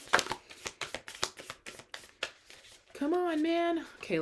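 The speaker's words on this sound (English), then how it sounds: "Okay, last shuffle." Tarot cards shuffled by hand in a quick run of crisp, rapid papery riffles and taps for about two and a half seconds, then a voice sounds over the quieter end.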